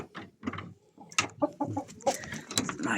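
Hens and a rooster cluck close by on a farm where feed is being prepared, with a rapid, uneven run of short clucks and squawks, fairly loud and busy.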